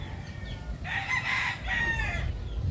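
Chickens nearby, with a rooster's drawn-out crow rising over a low background rumble, heard in two clear phrases.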